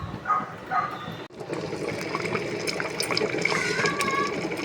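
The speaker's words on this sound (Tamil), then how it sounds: "அரிசி பாருங்கள் நல்லா கொதிச்சிட்ருக்கு" Rice boils in a pot of water with a steady, close bubbling and gurgling wash. One brief dropout breaks the sound near the start.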